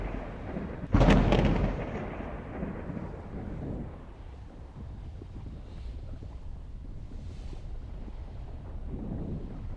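Lightning and thunder in the video game Sandbox of God: one sudden loud crack near the start, then a long rumbling roll fading into steady wind-like noise.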